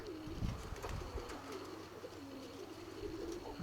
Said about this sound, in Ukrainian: Гарний такий голубочок